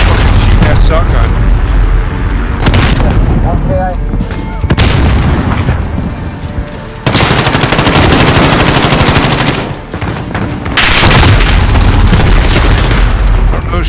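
Dense shotgun and automatic gunfire in a Call of Duty Modern Warfare match, loud rapid blasts and booms in long bursts with a few brief lulls, layered over game effects and occasional voices.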